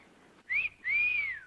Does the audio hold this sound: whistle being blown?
yes